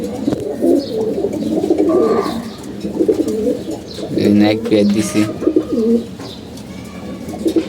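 Pigeons in a loft give repeated low, throaty coos close by, overlapping in uneven bursts while someone speaks briefly over them.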